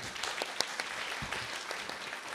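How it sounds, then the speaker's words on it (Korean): Indoor forum audience clapping steadily throughout, a dense wash of many hands at moderate level with no talk over it. "박수 부탁드립니다"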